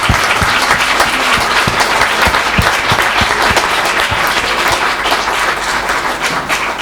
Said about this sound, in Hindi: जितनी तालियां हो सकती है इन दोनों के लिए आप बजाएंगे तो मुझे अच्छा लगेगा।